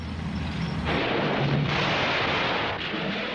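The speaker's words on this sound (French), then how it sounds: "Les orgues de Staline, les Katyusha, taillent en pièces les troupes allemandes." Katyusha rocket artillery fire in a WWII setting: a loud, continuous roaring barrage of launches and blasts, sustained rumble with shifting bursts throughout, no speech.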